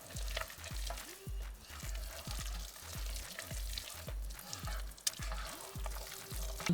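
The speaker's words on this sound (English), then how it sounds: "I'm going to add some chopped spinach. Thawed. And we're going to stir that in." Thawed chopped spinach stirred into a hot sizzling pan, a continuous crackling fry with soft scraping strokes in a loose rhythm, close and fairly quiet, no speech.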